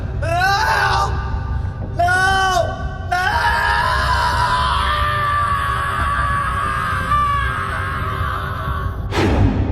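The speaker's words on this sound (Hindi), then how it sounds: "सुधीर खिड़की पर खड़ा चीख रहा था" A man screams in long, loud, anguished yells from a window of an old British dak bungalow, a horror-story sound effect with several sustained cries broken by short gaps and a final sharp shout.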